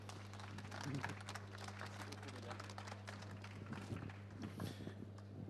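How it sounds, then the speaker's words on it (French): Audience at the Natexpo 2022 trophy ceremony gives a faint, scattered round of clapping in a large hall, sitting low beneath a steady electrical hum. "Vous pouvez les applaudir, mesdames et messieurs."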